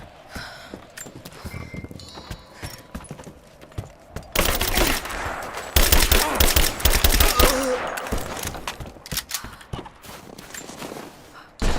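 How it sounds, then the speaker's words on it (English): Bursts of covering gunfire erupt in Rise of the Tomb Raider, with rapid automatic volleys loud and close in the middle after a quieter stretch of scattered sounds and movement. "Give me covering fire!"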